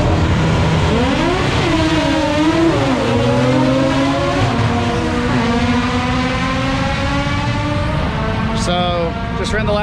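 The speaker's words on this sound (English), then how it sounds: "A lot of rotary noise." A rotary-engine drag car runs loud and close, its high buzzing engine note rising and falling with revs through the whole stretch, briefly under a voice.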